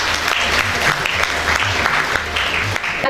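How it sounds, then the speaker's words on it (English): Audience applause at a school felicitation ceremony honouring students, a steady, dense clapping that holds at full strength throughout with a faint low hum and light crowd murmur beneath. "Let's start with a huge round of applause."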